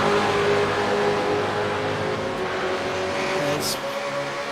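V8 race cars circling closely on a circuit give a dense, continuous engine roar with layered revving tones, heard at a moderate distance without speech.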